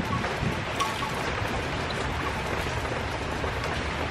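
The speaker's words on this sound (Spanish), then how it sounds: "miren cómo está la lluvia" Heavy rain pouring outside, a dense, constant hiss of drops striking surfaces, loud and unbroken throughout.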